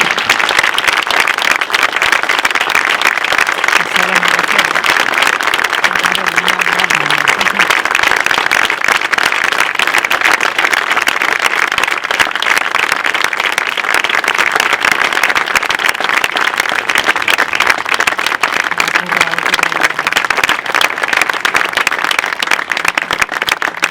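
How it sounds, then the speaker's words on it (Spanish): Sustained audience applause at a ceremony returning identified victims from mass grave 94 to their families, a dense, even wash of clapping from a large crowd that continues steadily throughout. "Para todos los que pido un fuerte aplauso."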